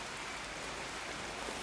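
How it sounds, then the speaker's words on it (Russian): Steady rain falling in Spain, a dense even hiss with no breaks, close by and moderately loud. "Блин, ну смотрите, дождик прям зарядил нормальный."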